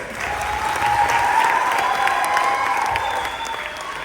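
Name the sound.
audience applause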